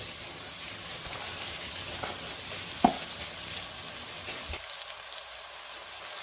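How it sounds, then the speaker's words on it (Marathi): Washed lentils and rice are tipped into a pan of sizzling vegetables for khichdi, making a soft continuous fry with a sharp clatter of grains landing. The sizzle drops off sharply near the end. "आता आपण धुतलेले डाळ तांदूळ घालूया।"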